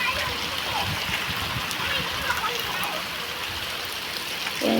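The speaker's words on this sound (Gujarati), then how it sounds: "આ જો વરસાદ પડી રહ્યો છે અમારા ગામમાં" Rain falls in a village with a splashing, running-water wash, steady and fairly close, while voices talk faintly underneath and a louder vocal sound enters right at the end.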